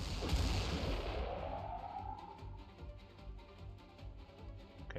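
Aircraft guns fire in an air dogfight in the video game Xenonauts 2: a loud, dense burst of rattling shots over a low rumble, then a steady thudding barrage that carries on at a lower level.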